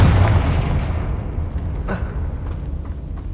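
A Confringo blasting spell in Hogwarts Legacy erupts in a loud, deep boom that rumbles and slowly decays, with a faint crackle midway through the fading blast.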